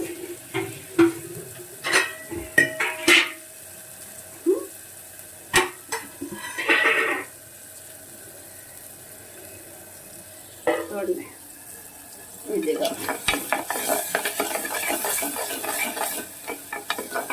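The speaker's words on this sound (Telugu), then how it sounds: "చక్కగా ఏగుతుంది పెద్దగా ఏగక్కర్లేదు" Cheeramenu (tiny Godavari fish) masala frying in a pan, heard as soft sizzling with repeated stirring scrapes and clatters in bursts, then a denser steady sizzle toward the end; no speech.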